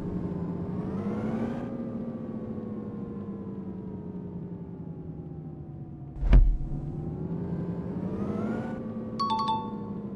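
A bus in the Indian Bus Simulator video game drives along with a steady engine drone that shifts pitch as it speeds up and slows. A short thud lands near the middle, and light clicks follow near the end.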